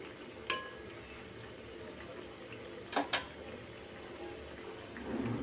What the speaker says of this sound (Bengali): মাছগুলো দিয়ে একটু নেড়ে নেবো, মাছগুলো যাতে ওই ঝোলের মধ্যে